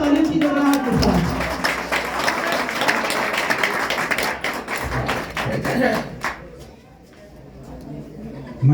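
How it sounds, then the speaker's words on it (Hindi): An audience at a poetry gathering (kavi sammelan) in Delhi claps loudly for a poet, with sharp, close hand claps in a thick burst that thin out into scattered taps and fade near the end. "आपकी जोरदार तालियों की गड़गड़ाहट के साथ"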